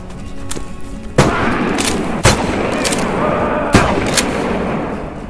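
Gunfire in the Blood Trail VR shooter game: three sharp, loud shots spaced a second or two apart over a steady background din, with no talk during the shots.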